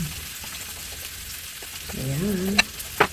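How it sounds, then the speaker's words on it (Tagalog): Food frying in a pan gives a steady, low hiss of moderate loudness throughout, with a rising whistle-like tone near the end and a couple of sharp clicks. "Perfect ang aking prito."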